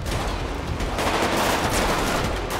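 Heavy automatic gunfire aimed at police in the video game GTA 5, a dense, loud, unbroken barrage of rapid shots filling the whole moment without any voices.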